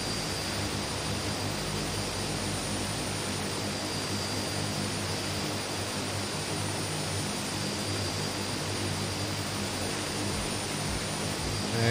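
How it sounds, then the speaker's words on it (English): A light aircraft runs its engine at full power for a short takeoff, a steady, continuous propeller drone and roar heard from inside the cabin, with no talk. "I'm going to do a short takeoff there"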